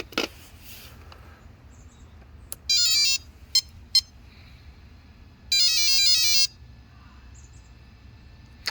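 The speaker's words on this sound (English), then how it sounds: "So you heard that it was only 2 beeps." Two short bursts of high electronic beeping from a radio-controlled car, each lasting about a second, with a few brief clicks between them over a quiet background hum.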